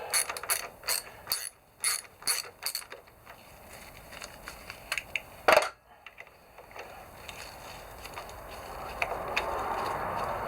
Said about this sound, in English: So we just undo this